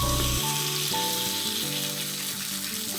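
Fish pieces for a Kerala-style fish mandi fry in hot oil in a pan, giving a steady, close sizzle with a low droning hum beneath it and no voices.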